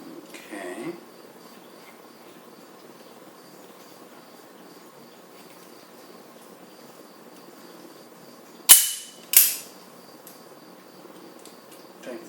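A .32 ACP Tanfoglio pistol being reassembled gives two sharp metallic clacks close together near the end, after a long stretch of quiet room tone and a faint rustle at the start.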